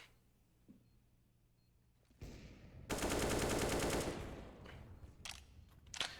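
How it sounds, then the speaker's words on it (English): Gunfire in a competitive first-person shooter match, a player firing through a smoke grenade cloud: a loud dense burst of shots after quieter ambience, followed by a few scattered sharp reports. "Perfecto is just going to shoot him through the smoke"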